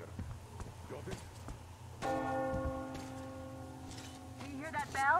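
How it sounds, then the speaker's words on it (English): Church bell tolling in the Metro Exodus video game, its long sustained ringing partials entering sharply midway and hanging over game ambience, with hoof-like clopping and a voice earlier and a brief rising chirp near the end. "Do you hear that bell?"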